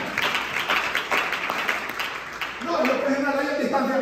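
A church congregation applauds in a dense burst of clapping for a few seconds before it gives way to a sustained tonal musical sound with voices.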